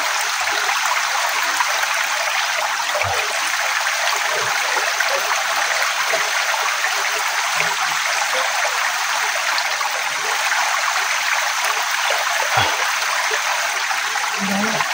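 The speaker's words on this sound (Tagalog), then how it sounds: "Tatambay po muna kami sandali dito sa may sapa." Water flowing steadily in a small creek, a continuous broadband rush that stays even and fairly close throughout, with a few faint low knocks but no talk.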